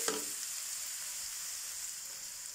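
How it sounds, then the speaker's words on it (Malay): Garlic frying in hot oil for a crab flour soup, a steady close sizzle that runs alone throughout after a brief clatter at the start. "sekarang saya nak masukkan bawang putih ya"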